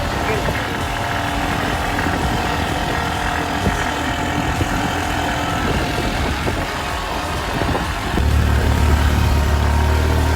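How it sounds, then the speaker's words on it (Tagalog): A motorcycle engine labors steadily at close range on a road damaged by large trucks, its rumble rising and straining over rough ground, with a heavier surge near the end. "Hirapan yung motor natin o."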